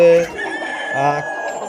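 A rooster crows nearby, loud and close, in a single drawn-out cock-a-doodle-doo, with a bit of clucking at the start.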